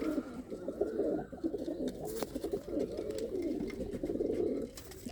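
Racing pigeons coo in a steady, murmuring stream of low throaty calls, fairly close, with a few soft rustles and no talking.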